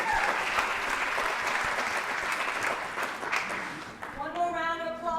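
Audience at a live stage show applauding, a loud broad wash of clapping with cheering voices that fades near the end as a voice begins to speak.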